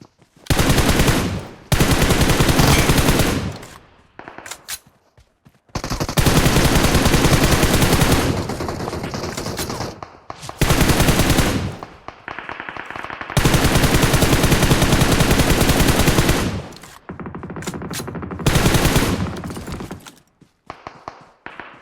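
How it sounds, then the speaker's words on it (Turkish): Loud bursts of automatic gunfire from PUBG Mobile, in the icy snow map, come in long sustained rattling volleys separated by short pauses, close and dominant, with no talk over them. "Şu adam hayvan gibi sıkıyor ya."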